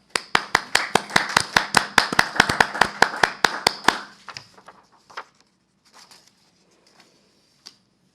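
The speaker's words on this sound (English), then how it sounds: "Let's have one last round of applause for all of our graduates." A modest crowd claps for graduates at a board meeting, brisk and fairly close for about four seconds before quickly dying away into a few scattered last claps.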